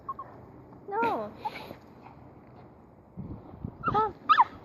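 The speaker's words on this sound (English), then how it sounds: "You want to play with every dog, Jeff." A dog whimpers and gives short high yips and barks in scattered bursts, close and fairly loud, with a few quiet gaps between them and some low background noise.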